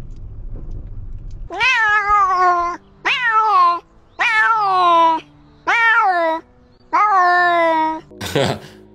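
A cat meows five times in a row, loud and close, each call a drawn-out wavering cry with short pauses between, ending with a brief rustle.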